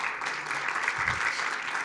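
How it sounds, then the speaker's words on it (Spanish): An audience at a talk on tenders under Chile's REP recycling law applauds a speaker, a dense, even wash of many hands clapping at moderate distance throughout the brief moment. "Un aplauso para ella, por favor."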